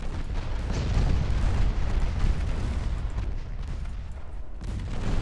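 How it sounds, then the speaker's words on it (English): In the naval game Ultimate Admiral Dreadnoughts, a torpedo strikes a light cruiser, a loud, rumbling, sustained explosion roar with no talk over it. "And a torpedo hit on the light cruiser."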